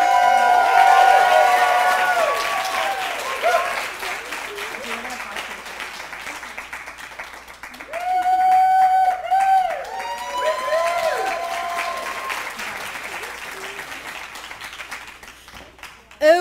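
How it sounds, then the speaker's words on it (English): An audience at a university social innovation showcase applauds and cheers after a prize presentation, sustained clapping with crowd noise and loud voices rising over it before fading. "So let's give her a round of applause for Nikki with the Puzzling Disorder Project"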